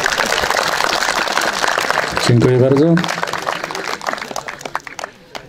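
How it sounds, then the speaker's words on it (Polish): An audience at a municipal sports and firefighting competition in Cieszanów, Poland, applauds with a dense, steady clatter. Someone speaks over it, and the clapping thins out and fades toward the end. "Duże brawa"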